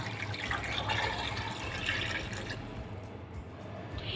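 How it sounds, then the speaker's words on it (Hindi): Water is poured into a large cooking pot for paya curry, a continuous splashing fill at moderate loudness that runs steadily throughout. "1 लीटर पानी डाल दिए है।"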